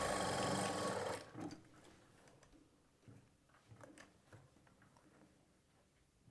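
Sewing machine stitching the side seam of a blouse, with a short loud run of stitching at the start followed by quiet, sparse clicks and handling sounds.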